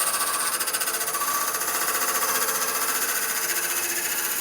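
A shear scraper cuts a maple burl bowl on a wood lathe, giving a continuous close, rough chattering and whirring drone with a fast pulsing rhythm and no talk.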